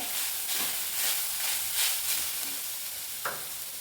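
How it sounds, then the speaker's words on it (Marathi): Grated coconut sautéing in ghee in a wok for ukadiche modak filling, giving a soft steady sizzle with faint scraping stirs throughout and one sharper clink near the end, no talking. "आता हा एक नारळाचा चव घालून घ्यायचा आहे, थोडासा परतून घ्यायचा आहे"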